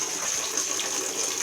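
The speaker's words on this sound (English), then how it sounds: "I am at the moment filling up the tub with hot water" A bathtub filling with hot water from the tap, a loud, steady, close gushing rush of water running continuously with no talking.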